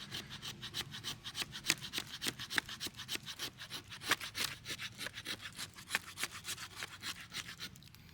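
Knife blade scraping along a piece of wood to raise curls for fire starting, a fast steady series of rasping strokes, close and fairly quiet.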